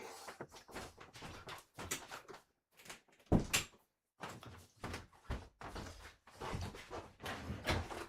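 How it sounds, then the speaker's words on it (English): A door thuds shut once partway through, between stretches of rustling and handling noises nearby. "I'm going to close this door all the way"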